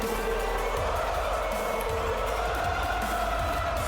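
Crowd at an independent wrestling show cheering a wrestler's entrance, a steady roar of voices over a thumping entrance music beat, with a commentator's voice mixed in.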